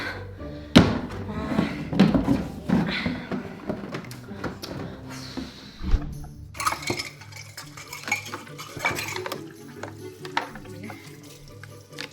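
Dishes are washed by hand, with clattering cutlery, clinking pots and plates, and occasional knocks and sloshes of water, irregular and close, with brief soft talk.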